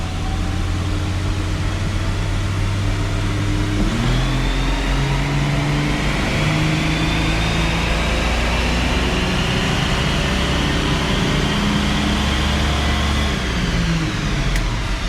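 A car on a dyno makes a second-gear pull from 2,000 RPM at wide-open throttle, a long, loud engine drone rising steadily in pitch over several seconds under a constant whoosh of fan noise, without talk.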